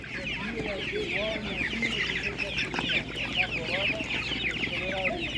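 Hens cluck continuously at an animal market poultry stall, a dense flock of birds calling near and far with overlapping chatter and occasional distant crowing mixed in.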